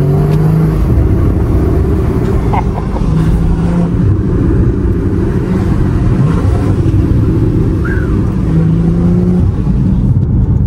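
A Porsche Cayman S 981 with a manual gearbox pulls hard along a scenic road, its engine a loud, steady drone that holds for the whole stretch without easing off.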